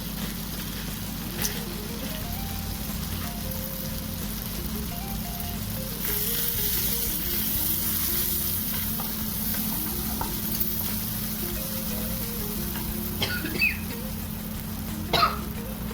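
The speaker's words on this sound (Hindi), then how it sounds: "सारा मसाला अच्छे से भून गया है" Spice masala with kasuri methi roasting in a pan, giving a steady low sizzle throughout with occasional stirring clicks, and a faint melodic tone running underneath.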